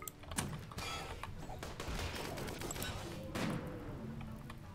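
Sniper squad gunfire in RimWorld: a dense rattle of repeated shots and impacts running steadily throughout, with a couple of sharper bursts standing out among the clatter of the battle.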